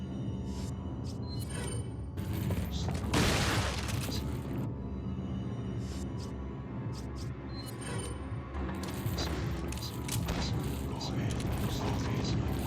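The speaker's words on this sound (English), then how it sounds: "Luckily, they don't attack her while she's cranking" A character in Resident Evil 4 turns a crank, giving a steady run of ratcheting mechanical clanks under layered game ambience, with a heavier boom near the start.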